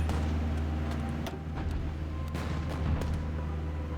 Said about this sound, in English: Just bombard them all out